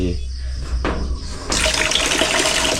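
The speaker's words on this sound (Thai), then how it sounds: "น้ำไหลครับผม" Water gushes from a tap in a campsite restroom, starting as a faint trickle and then swelling into a loud, steady close-up rush for the last half.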